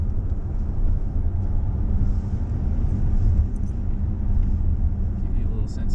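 Tesla Model Y dual motor long range accelerating, heard from inside as a steady low road rumble with faint high motor whine, continuous and moderately loud.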